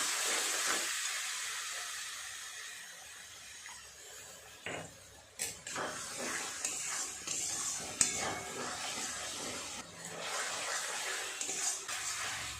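Spices sizzle and hiss steadily in a hot pan while being fried down for a soybean curry, with scattered clinks and scrapes of a spoon against the pan breaking through the continuous sizzle.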